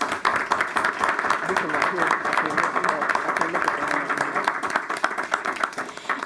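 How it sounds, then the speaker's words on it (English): An audience at a school district board meeting applauds students, a steady wash of many hands clapping together, with voices mixed in underneath. "So I'll give you guys a round of applause."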